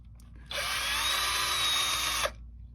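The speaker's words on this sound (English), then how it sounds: "Gonna pop the screws out." A power drill or driver backs screws out of a 1969 Buick Skylark barn find, giving one steady, close whir of about two seconds that starts and stops abruptly.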